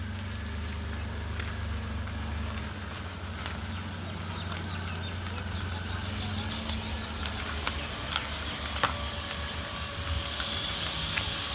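A car engine runs steadily through a driving lesson, a continuous low hum with faint rattles and a few light knocks toward the end.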